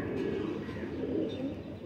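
A breeder pigeon with a strong ring gives a low, continuous throaty coo, close and steady for the whole stretch, with no talk over it.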